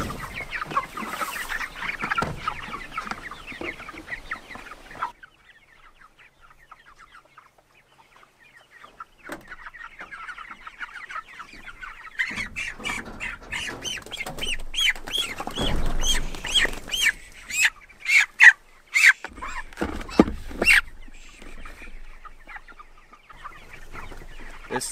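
Chickens clucking and squawking as birds are caught for weighing with a scale and bucket, a busy flock chorus rising to louder agitated bursts partway through, no talk.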